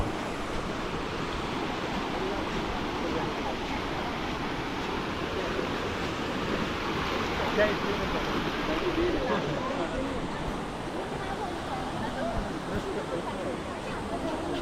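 Flowing water rushes steadily at Sanjay Gandhi National Park in Borivali, a dense, continuous wash of noise with some wind, holding an even level for the whole stretch.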